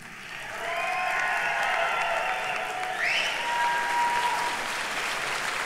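Audience at a 2014 spring graduation convocation breaks into sustained, dense applause that swells quickly and holds steady and loud to the end.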